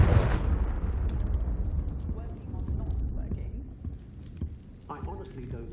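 A Confringo fire-blast spell cast in Hogwarts Legacy on the Switch sets off an explosion that opens with a loud burst. A deep rumbling roar holds for several seconds and slowly fades.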